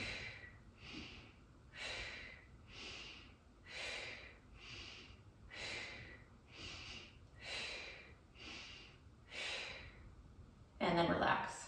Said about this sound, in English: So starting with inhale, exhale, inhale, exhale,